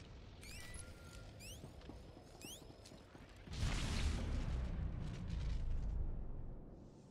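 Jammers are destroyed in Star Wars: The Old Republic as a deep, sustained explosion roars in midway after quieter blaster zaps and mechanical beeps, the rumbling blast holding loud to the end.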